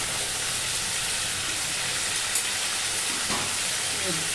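Fried potatoes tipped into a pan of sizzling spice paste for a Bengali egg and potato curry, giving a steady, close, loud hiss and crackle of frying that holds throughout.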